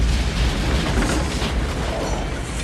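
A bomb explodes in the film Village of the Damned, a loud, sustained broadband roar and rumble filling the whole moment without any talk.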